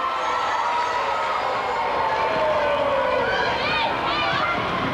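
Vigorous crowd cheering and shouting at a netball final between Australia and New Zealand under-21 sides, loud and continuous with rising whistles and calls, a commentator's voice running over it.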